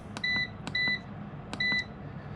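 A cooker's control panel beeps as its timer is set: three separate short, clear electronic tones spaced roughly evenly, close by over quiet background.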